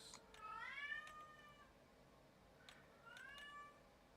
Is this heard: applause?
no